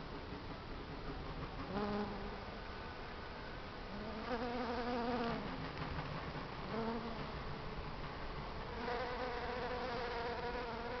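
Honeybees foraging on clover for nectar and pollen, a steady close insect buzz rising and falling in pitch as bees pass near the microphone over a continuous outdoor drone.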